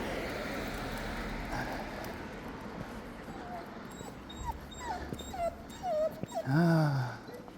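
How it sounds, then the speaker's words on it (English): Dogs meeting other dogs on a walk near a laundromat give soft whimpers and rising yips, faint at first and louder toward the end over outdoor ambience, with a little talk. "There's some other doggies approaching down by the laundromat where we're going."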